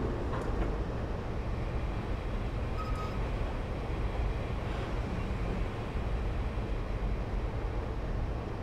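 An HST high-speed train braking in Train Simulator 2016 on the Cardiff Central to London Paddington route, a steady continuous rumble of wheels and rails with a faint brief squeal partway through.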